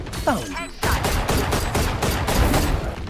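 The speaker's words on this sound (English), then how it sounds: "every time you shoot, you get a little less accurate" Rapid bursts of gunfire from a first-person shooter video game, with repeated loud shots in an irregular rhythm that fill the whole stretch after a brief voice at the start.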